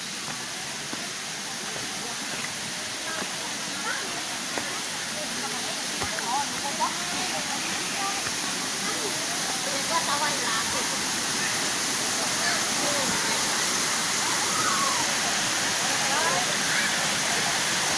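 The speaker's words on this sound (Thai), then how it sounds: "ตอนนี้เป็นบรรยากาศน้ำตกร้อนแล้วครับ" Steady roar of a hot-spring waterfall at Krabi, Thailand, a continuous broadband wash of falling water heard close and even throughout, with faint voices occasionally underneath.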